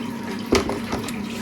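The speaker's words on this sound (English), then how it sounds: "just rinsing this out, quite a bit to go, just emptying it out the bottom" Water rinsing out of a brewing vessel and draining from its bottom outlet, heard as a short splash and gurgle over a steady background hum.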